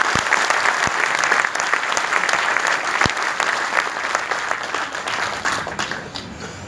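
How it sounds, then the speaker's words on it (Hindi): Applause from an audience at a live product event, a loud burst of clapping that gradually thins and fades toward the end. "एक बार जोरदार तालियां हो जाए।"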